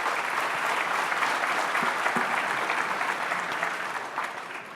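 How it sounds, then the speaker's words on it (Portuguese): Sustained applause from a conference audience thanking panelists, even and continuous clapping from a full room that gradually fades toward the end. "peço uma salva de palmas aos nossos"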